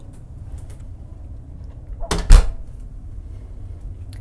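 A heavy, thick solid door aboard a 146-foot Heesen superyacht shutting with one dull, close thud after near silence, with a faint rustle before and after.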